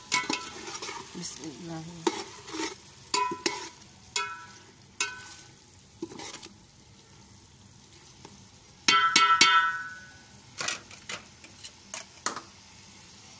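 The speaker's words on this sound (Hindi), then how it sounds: "टमाटर डाल के फिर हम एक दफ़ा चम्मच मारेंगे इसमें" A spoon scrapes and clacks repeatedly against a pan as tomatoes are stirred into sizzling hot oil, with irregular sharp taps over a soft frying hiss and a brief spoken word near the start.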